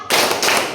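A group in a teacher-training class claps in unison for a clapping game, a sharp burst of hand claps that starts abruptly and carries on briefly at close range.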